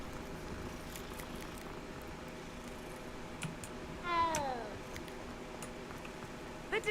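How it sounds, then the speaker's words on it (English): A short cat meow from a petted kitty in the video game Hogwarts Legacy, faint and brief, rising over a quiet bed of low game music and soft keyboard clicks. "Chat, we're gonna pet the kitty."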